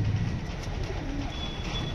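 Soft, low pigeon cooing close by, a brief murmuring call over steady background hum.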